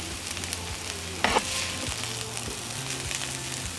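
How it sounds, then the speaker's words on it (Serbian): Onion and carrot frying in a pan, a steady close sizzle with a brief clatter of stirring partway through. "Propržila sam luk i šargarepu"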